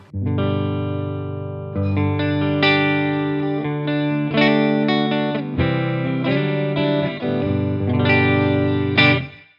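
A mahogany electric guitar on the neck pickup plays warm, rounded chords and single notes, ringing with a lush shimmering effect, clean and close with no talking.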